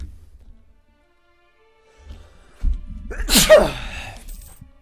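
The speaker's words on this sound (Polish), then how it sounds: "nie wiem czemu jak zaczynam nagrywać, to od razu kicham" A single loud, sharp sneeze bursts out near the microphone after a quiet stretch, with low rumbling room noise before and a brief breathy tail after.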